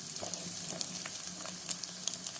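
Chana dal fries in oil until golden for tamarind rice, a faint, close sizzle with tiny crackling pops and light spatters over a couple of seconds.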